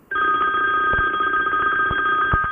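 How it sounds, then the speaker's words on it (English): A telephone rings with a steady electronic double-tone trill lasting the whole stretch, loud and close, during a Honda Goldwing trike tire and brake job in a garage, with faint clicks and knocks beneath it and no talking. "Yep, hold on, phone call."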